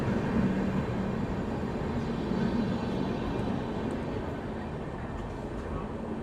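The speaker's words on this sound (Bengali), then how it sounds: "এই আমাদের ট্রেন ছেড়ে বেরিয়ে গেল" A weekly train pulling out of Rampurhat station at night, a steady low rumble and rolling rail noise that fades gradually, with a voice talking over it.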